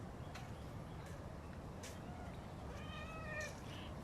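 A cat meows a few times amid a steady noisy background while puppies play rough with it, the calls moderately close and not very loud.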